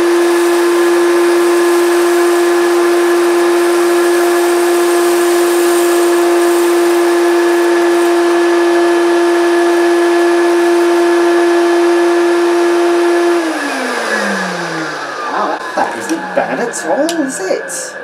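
A straight suction vacuum cleaner drones loud and steady for about thirteen seconds, holding a constant whine, then its pitch slides down as the motor winds off and a few scattered knocks follow.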